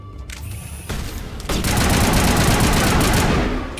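Rapid sustained bursts of assault rifle fire in the Mass Effect video game, dense and loud, building into continuous automatic gunfire after a short lighter opening.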